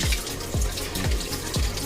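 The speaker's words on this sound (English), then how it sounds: "Right now I am going to be washing off my crab legs before I put them" Crab legs being rinsed under a running kitchen tap, a steady splashing stream of water with repeated low thuds as the legs are handled in the flow.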